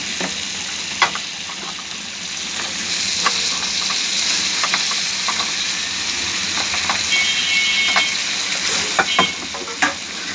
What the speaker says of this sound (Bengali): এই পর্যায়ে আমি দিয়ে দিব আমার কুটে রাখা তাজা তাজা ফুলকপিগুলোকে